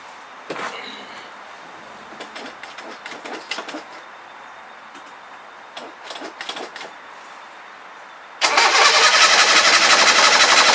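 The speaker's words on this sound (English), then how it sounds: "mostly we're good to go for a fire on the engine" An old Datsun car engine cranks with a whirring starter in several short bursts, then catches and settles into a loud, steady running roar close by.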